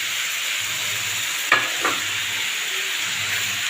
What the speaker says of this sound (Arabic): هي خلاص اتشوحت، هنزل بالفلفل